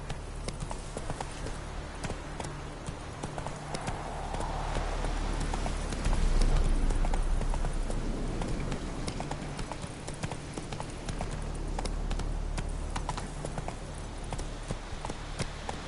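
Roach, the horse in The Witcher 3: Wild Hunt, galloping steadily with rhythmic clip-clop hoofbeats throughout, close and fairly loud over faint ambient game background.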